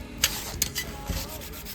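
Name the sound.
sanding stainless trim with sandpaper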